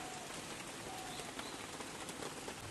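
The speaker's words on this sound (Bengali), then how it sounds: "আর বৃষ্টি তো এই যে এরকম অনর্গল পড়তেই রয়েছে" Steady rain falls softly and continuously on a surface, a faint even hiss with a few scattered drops and distant bird notes.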